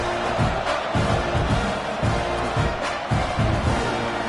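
Stadium crowd at a football game during a kickoff, a steady dense roar of many voices with low rumbling swells throughout, no clear cheers standing out.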